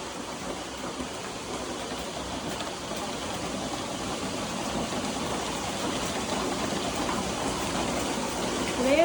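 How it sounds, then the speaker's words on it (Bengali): Heavy rain pours down in a steady, dense hiss with no breaks, growing slightly louder toward the end. "বাপরে বাপ কি জোরে বৃষ্টি পড়ছে দেখো"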